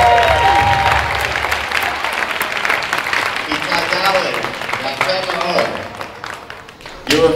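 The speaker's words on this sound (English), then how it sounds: "let's give them one more big round of applause" Big round of applause with some cheering from an audience after a Torah-themed show, loud steady clapping that gradually thins toward the end, with voices mixed into the crowd noise.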